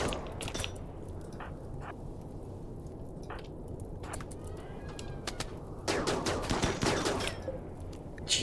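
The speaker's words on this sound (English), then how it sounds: "and now we're going to shoot them" Gunfire from the RimWorld video game crackles in scattered bursts, with sparse sharp shots early and a denser, louder volley of rapid fire near the end over a low steady background.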